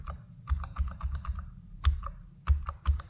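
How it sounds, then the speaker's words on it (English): Typing on the keyboard of an Asus Zephyrus G16 (2025) gaming laptop: a close run of crisp, fairly uniform keystrokes at an uneven rhythm, with a short pause in the middle. "The Zephyrus's keys have a bit longer key travel and sound and feel more"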